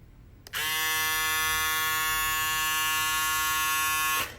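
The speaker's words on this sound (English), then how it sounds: "hypoallergenic double foil shaver." A Go double foil electric shaver with a rubber grip and USB-C charging runs close by, a steady high buzzing whine that starts abruptly, holds even for about four seconds, then cuts off cleanly.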